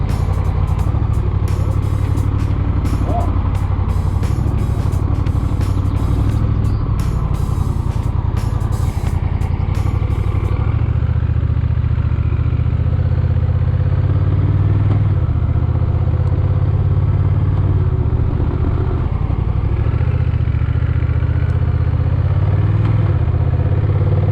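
Engine of a Honda CMX 1100 Rebel motorcycle with Dual Clutch Transmission during a test ride, a loud, steady low rumble with wind noise and light clatter, continuous and close, with no speech.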